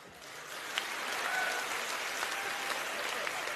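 An audience at a Kyrgyz aitysh poetry contest claps for a few seconds, a dense, even patter of many hands that swells slightly and holds steady.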